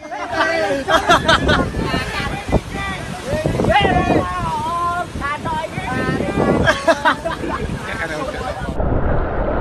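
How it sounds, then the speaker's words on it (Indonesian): Strong wind buffets the microphone over floodwater on a flooded highway in Demak, roaring and gusting throughout, with someone talking over it and some background chatter. "anginnya juga sangat kencang"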